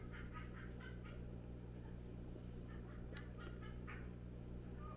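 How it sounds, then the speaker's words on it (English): A pet bird in another room gives a run of faint, distant honking cackles over a steady low hum, with a few louder bursts toward the middle. "You can hear the bird laughing out there."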